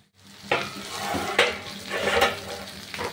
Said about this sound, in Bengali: সামান্য একটু নেড়ে চেড়ে নিলাম